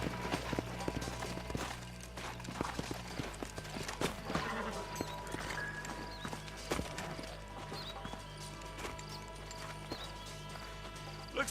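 Horse hooves clip-clop at a steady running rhythm in the Western video game Red Dead Redemption, with brief snorts and game ambience around them and no talk over the hoofbeats.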